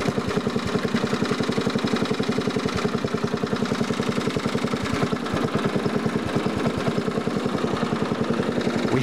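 A barn-find tractor mower's engine idles in reverse with a steady, rapid, evenly pulsing chug, close and continuous throughout.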